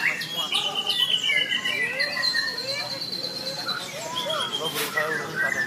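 A white-rumped shama (murai batu) sings at a crowded bird contest, its loud, varied whistles and trills ringing out continuously among other birds while people talk in the background.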